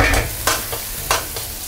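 Pumpkin chunks stir-fried in hot oil with minced ginger, garlic and scallion, sizzling steadily with three sharp scraping stirs of the spatula, close and fairly loud.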